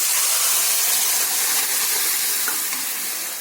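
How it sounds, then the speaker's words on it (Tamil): Loud, steady sizzling of mustard seeds and curry leaves frying in hot oil for a chicken curry tempering, a dense crackling hiss that fades slightly toward the end, with no talking. "கடுகு பொரிஞ்சிருச்சு இப்போ கருவேப்பிலை சேர்த்துக்கலாம்"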